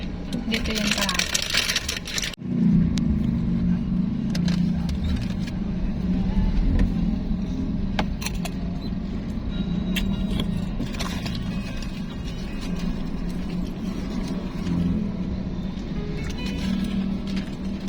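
Road traffic near Sta. Rita Eco Park in Pampanga, Philippines, a continuous low rumble of passing vehicles with mechanical rattles, while people talk over it.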